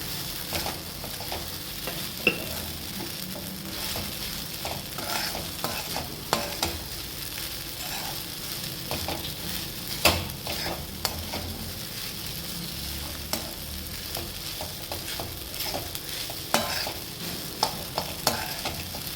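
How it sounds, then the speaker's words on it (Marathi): Sabudana and potato with salt are stirred in a pan, a continuous soft sizzle broken by frequent scraping spatula strokes and light clinks, close and unaccompanied by talk. "चवीनुसार मीठ आता छान हलवून घ्यायचं आहे"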